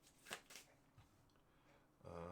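Cards for the Valley of the Kings board game being shuffled, a few quiet riffles and flicks close by, ending in a louder handling noise.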